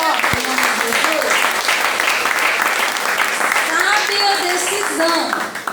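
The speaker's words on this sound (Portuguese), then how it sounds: "Você pode aplaudir ele bem forte, em nome de Jesus?" A church congregation at a deliverance service applauds loudly and steadily, dense sustained clapping filling the space, with voices and shouts mixed through it and a brief taper at the end.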